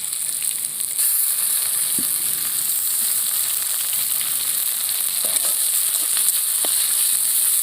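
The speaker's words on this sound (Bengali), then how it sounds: "আদাটা ভালো করে কষিয়ে নেবো" Ginger paste frying in a pan before kohlrabi goes in for a kohlrabi and potato paratha filling, giving a dense, even sizzling hiss that runs throughout, close and loud, with a few faint clicks and no talking.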